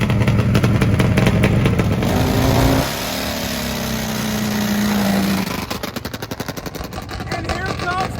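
A Nitro Harley drag racing motorcycle blares close and loud with a harsh, rapid pulsing exhaust, its pitch sweeping and shifting before falling into choppy popping bursts.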